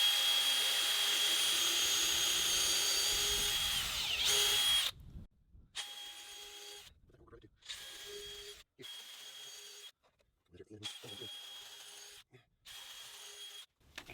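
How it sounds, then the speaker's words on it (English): Power drill boring countersinks and pilot holes for deck screws into a thick log for a sawmill stand: a long whining run, then a series of short bursts separated by brief silences, close and loud. "Okay, we got a countersink, and then we're going to drill them through."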